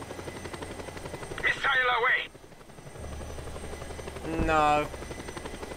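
A helicopter in the video game Just Cause 2 drones with a steady rotor hum throughout, while a person speaks briefly over it twice.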